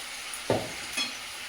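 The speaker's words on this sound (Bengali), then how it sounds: "বেশ অনেকদিন পরে বাড়িতে মাংস হচ্ছে" Meat cooking in a pan in a home kitchen, a faint steady sizzle with a couple of brief stirring scrapes, no talk.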